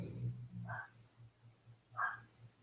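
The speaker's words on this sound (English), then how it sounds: "She's still barking. My Jack Russell." A Jack Russell terrier barks indoors, two short, sharp barks about a second apart, fairly faint at a distance, with a low steady hum underneath.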